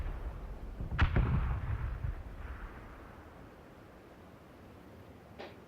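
A distant red zone bombardment in the battle royale game PUBG: a low rumbling boom with a crackling tail, then a fainter blast a few seconds later.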